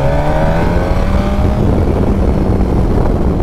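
A Suzuki GSX-S1000F motorcycle engine drones loud and steady while riding, its tone shifting as it pulls, with heavy wind rush over it and no talking.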